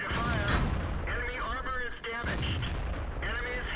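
Tank cannon shots and shell hits from a T69 in World of Tanks on the Pearl River map, with loud booming game audio dense with overlapping blasts and radio voice lines throughout the short burst.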